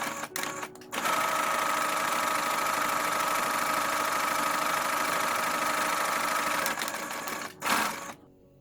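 Sewing machine stitching face mask fabric, a continuous fast mechanical whir running for several seconds after a brief start, close and steady before stopping.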